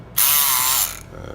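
A Kronos electric pick gun buzzes on a clear padlock in one close, loud, rattling mechanical burst just under a second long, then cuts off to quiet.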